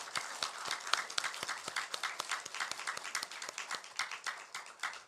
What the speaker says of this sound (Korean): 우리 박수로 환영해 주셨으면 좋겠습니다